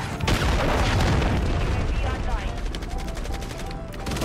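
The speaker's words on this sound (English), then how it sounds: "A cruise missile." A cruise missile blast in Modern Warfare 3 gameplay, a loud close boom with rumbling gunfire-like roar that decays over several seconds.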